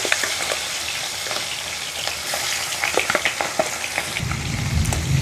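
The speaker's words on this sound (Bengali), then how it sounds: "এখন তেলের মধ্যে মাছের মাথা দিয়ে দিচ্ছি।" Catla fish heads fry in hot mustard oil in a kadai, a steady close crackling sizzle with spatula stirring scrapes, and a lower, louder burst of frying near the end.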